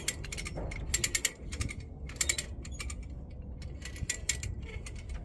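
A strap ratchet is cranked in quick clicking bursts, pausing between each set of pawl clicks, close and fairly quiet with no talking.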